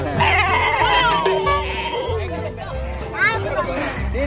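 A goat bleats a few times amid a crowd's chatter and babble at an outdoor livestock sacrifice gathering, the calls rising over the steady hum of voices.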